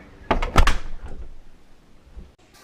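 A door opens with a few quick clattering knocks and a thud, fairly close, followed by quiet room tone.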